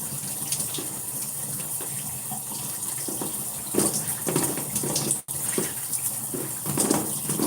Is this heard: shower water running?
yes